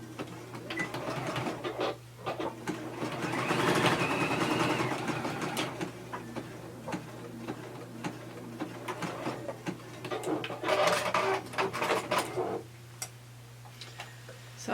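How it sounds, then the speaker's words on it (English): An overlocker runs across a skirt's fabric waistband with a close, steady mechanical whirring and ticking that swells and eases in bursts of stitching, with short pauses between runs. "So I've just overlocked across there, just tapering the overlocking off"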